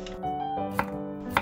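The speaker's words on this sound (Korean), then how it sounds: "750g을 나박나박 썰어줍니다." A knife cuts Korean radish into thin squares for nabak kimchi, giving two crisp chopping thuds against a cutting board over a steady kitchen hum, heard close.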